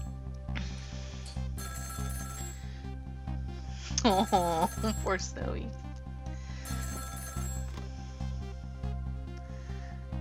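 A telephone rings steadily in the video game Ghost Trick, a repeating electronic ring tone over background game music, with a character's voice speaking briefly midway.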